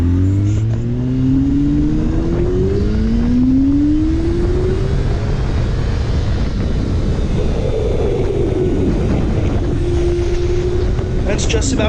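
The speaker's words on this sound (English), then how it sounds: "I'm going to shut up for a second and let the sound of the bike do a little bit of the talking" A 2005 Yamaha R6 sport motorcycle engine revs hard on a street toward redline, its pitch sweeping upward in repeated climbing runs, loud and close with wind buffeting the microphone.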